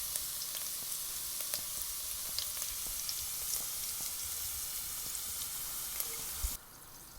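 Rosemary fries in hot oil with a steady, busy sizzling, crackling and popping throughout, then dropping off sharply near the end.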